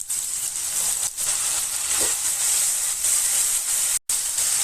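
Ground spice paste sizzles in a pan with fried onion and tomato, a steady close hiss of frying with a brief soft clatter partway through and a short dropout near the end, no voices.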